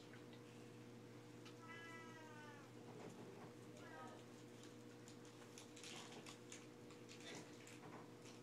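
A cat meows a couple of times over a steady low hum, with some background voices and rustling nearby.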